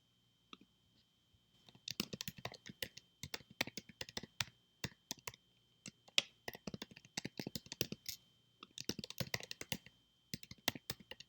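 Typing on a computer keyboard while filling in an account sign-up form, with close, fast bursts of crisp key clicks and short pauses in between, and no one talking.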